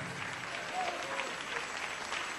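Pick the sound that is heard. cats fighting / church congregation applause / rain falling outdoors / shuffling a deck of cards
church congregation applause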